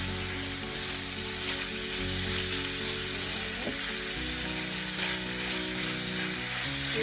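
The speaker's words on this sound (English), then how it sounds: "we fry this one so it gets like cooked slowly" Ingredients fry slowly in a pan for a restaurant-style Indo-Bangla Thai soup, giving a continuous close sizzle over a steady hum, with a brief scraping stir near the middle.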